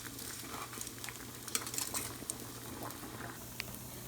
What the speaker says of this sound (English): at a rolling boil, I'm going to add in the spaghetti